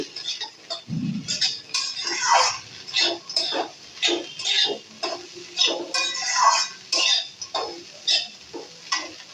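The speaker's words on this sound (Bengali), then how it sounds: "আবারও একটু নেড়ে চেড়ে মিলিয়ে নেবো" Poha being stirred in a pan with spices and ghee: repeated scraping strokes of a spoon against the pan in a steady rhythm, close and clear, with a brief low thump early on.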